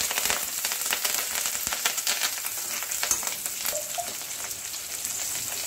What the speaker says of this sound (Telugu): ఇప్పుడు దీంట్లో మనం కట్ చేసుకున్న పచ్చిమిర్చి, కొంచెం కరివేపాకు వేసి ఇది కూడా ఒక 2 మినిట్స్ ఫ్రై చేసుకోవాలి.